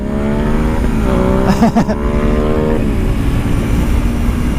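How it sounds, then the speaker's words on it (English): A motorcycle engine drones loudly and steadily at high revs, with a brief pitch shift midway and wind noise throughout. "I can hear your bike's engine over the speaker louder than I can hear this bike"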